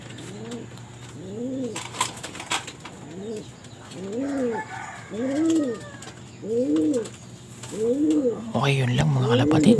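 Young pigeons cooing as they leave their loft, with repeated soft rhythmic coos close by, about one every second, and a louder flutter of activity near the end.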